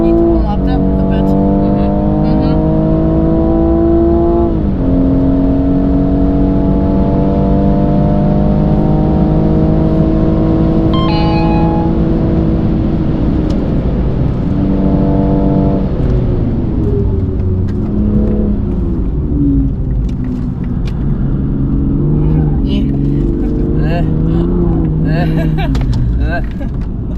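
An automatic car drives a lap of the Nürburgring, its engine running loud and continuous from inside the cabin as it revs up, shifts and climbs again, while people talk throughout.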